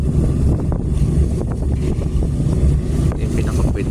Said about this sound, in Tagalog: So kita nyo pag nasa likuran, grabe laki ng alon.